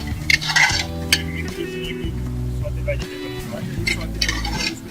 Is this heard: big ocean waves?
no